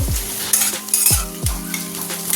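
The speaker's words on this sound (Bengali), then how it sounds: "আর ডাল ফোড়ন দেবো" Whole spices crackling in hot oil in a pan as a tempering for dal is prepared, a steady sizzle broken by short stirring scrapes, close and fairly loud with no talking.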